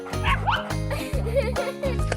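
A cartoon dog barks in a run of quick, bright, yappy bow-wows and whimpers against a music-like backdrop, loud and close throughout.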